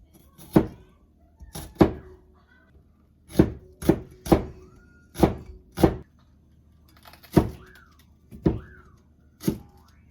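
Knife chopping an onion on a cutting board, about a dozen sharp, close knocks in uneven bursts, with quiet pauses between strokes and no talking.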